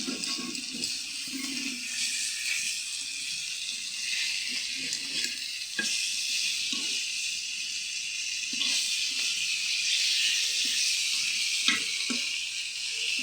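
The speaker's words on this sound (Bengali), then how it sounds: "এখন এই যে মাছ ভাজি করবো।" Fish frying in oil in a wok makes a loud, continuous sizzle up close, broken now and then by stirring and spatula knocks.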